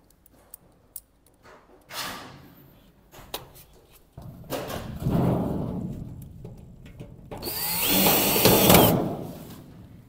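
A power drill drives screws into a steel wardrobe swing door during assembly, heard as several close, loud whirring bursts that grow longer toward the end, mixed with clicks and handling knocks, with no talking.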